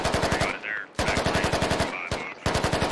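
Suppressive machine gun fire in the military shooter game Squad: rapid, evenly spaced rounds in three close, loud bursts separated by brief gaps, with a faint echoing tail between bursts.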